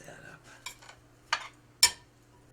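Cornbread batter with a beaten egg is mixed in a bowl, giving a few sharp, irregular clinks of utensil against bowl over quiet background.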